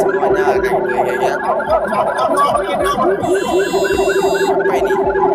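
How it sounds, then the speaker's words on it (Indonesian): An ambulance siren wails on an Indonesian street, loud and close, its repeating rising and falling tones cycling steadily, with a higher electronic tone joining briefly partway and faint chatter in the background. "Oh ini ambulan."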